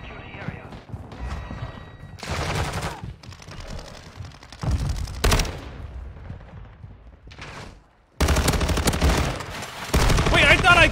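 Automatic gunfire in a first-person military shooter game, with rapid bursts and loud broadband blasts recurring throughout, interrupted by a brief near-silent gap, with talking over the action.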